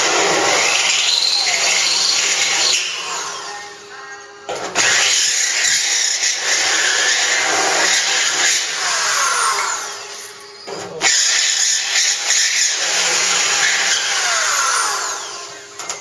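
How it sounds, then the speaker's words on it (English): A small grinding stone works the metal of a 1956 Chevy truck during an antenna installation, giving a loud, continuous high-pitched whine and rasp in three long passes with brief pauses between them. "I couldn't find a file anywhere, so I got a little grinding stone here"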